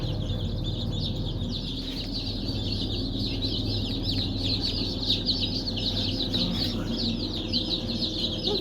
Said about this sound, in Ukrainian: Вибрала я курчаток, бо вже пищали дуже, бачите, водичку п'ють.